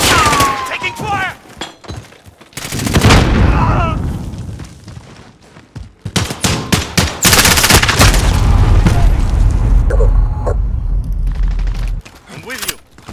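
Call of Duty Modern Warfare team deathmatch at Azhir Cave, with loud, close bursts of automatic gunfire, single sharp shots and booming impacts in irregular clusters, while soldiers shout over the fighting.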